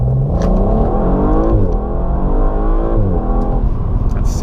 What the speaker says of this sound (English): If I just pull the throttle now